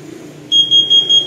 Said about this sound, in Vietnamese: nó có khói là nó sẽ báo động